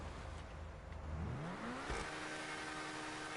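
An Emerus supercar in GTA Online accelerates on a snowy road, the engine note sweeping upward in a rising rev, briefly dropping at a gear change, then climbing again to a steady high whine.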